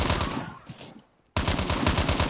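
Automatic gunfire in Call of Duty Mobile multiplayer, two loud rapid bursts close by, the first trailing off into a brief silence before the second burst starts.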